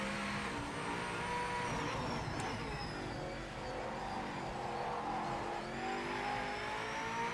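A race car in Project Motor Racing drones steadily at high revs, its engine pitch rising and falling through gear changes, with faint tire noise, loud and continuous.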